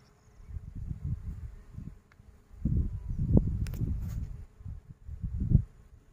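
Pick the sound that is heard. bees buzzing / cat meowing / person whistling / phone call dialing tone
bees buzzing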